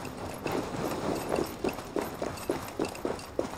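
Hooves of a horse clip-clopping in Assassin's Creed Valhalla, a steady trotting rhythm of close, sharp knocks repeating about three times a second over a low background wash.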